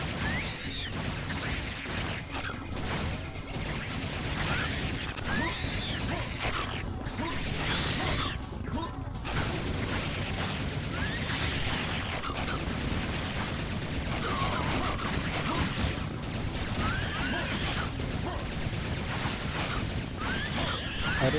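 A gun firing eight rounds per second in the video game Serious Sam 2, heard as dense, rapid gunfire with crashing impacts that run almost unbroken across a long stretch.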